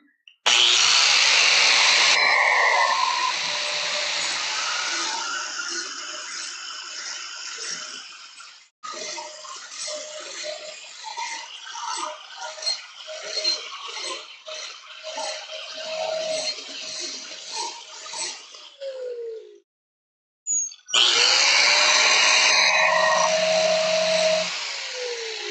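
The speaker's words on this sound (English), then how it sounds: "Might hit that with the grinder real quick just because I see a little bit of a cold shut happening" Grinder working a forged blacksmith knife: loud, close bursts of high whining grinding with the pitch shifting as the blade is pressed, a quiet gap near the end, then another sharp burst.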